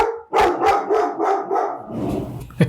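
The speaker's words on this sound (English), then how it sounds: "sorry, that's my dog in the background." A pet dog barks several times in quick succession close to the microphone indoors, the sharp barks followed by softer whines and a final short yip.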